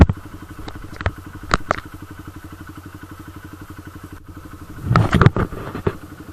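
A Honda CB125F motorcycle idles in neutral with a steady, close puttering beat, interrupted by a few clicks and a short cluster of louder knocks near the end.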